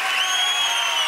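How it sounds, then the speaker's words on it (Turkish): Studio audience applauding the orchestra on a Turkish morning TV show, a brief, steady, bright wash of clapping at moderate volume. "Çağlar'ın Fuat Özdolgun ve orkestra arkadaşlarım için alkışlar."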